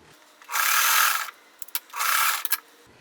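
A sewing machine stitches a quilt block seam in two steady bursts, each about a second long, with a short pause and a few light clicks between them, close and fairly loud.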